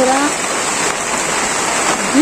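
Light rain falls on a Bangladeshi village after months of drought, a steady, even hiss of drops close by, with a brief voice faintly heard at the edges.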